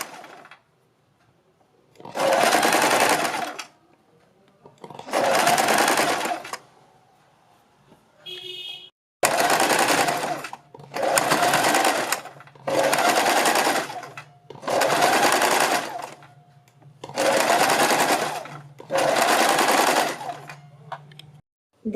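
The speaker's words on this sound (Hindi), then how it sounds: "इसी सिलाई के ऊपर हमें सिलाई लगाते जाना है" A sewing machine stitches lining onto the flared net skirt of a party-wear gown, running in seven or eight steady bursts of a few seconds each with short pauses between, close and loud with no talk.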